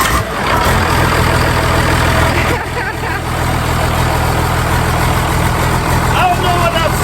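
A diesel engine runs at a steady, loud idle with a constant low throb throughout, its rumble holding without pause.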